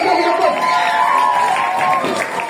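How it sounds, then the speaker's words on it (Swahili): An audience at a school poetry recitation claps and cheers loudly and continuously for a couple of seconds, a dense crowd sound with voices mixed in. "Tupige makofi kabla hajaanza."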